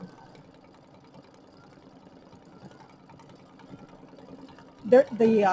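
An embroidery machine stitching a motif for a wreath design on a bench pillow hums with a steady, quiet mechanical chatter before a louder burst of noise near the end.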